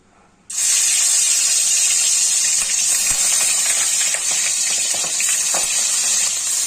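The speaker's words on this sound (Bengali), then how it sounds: "মাছগুলো বুড়ুম বুড়ুম করে ফুটতেছে, মানে সে ছ্যাঁকা দিয়ে নিবে।" Rohu fish fingerlings drop into hot oil in a heated pan and burst into a loud, steady sizzle that starts abruptly and keeps going with little change in level.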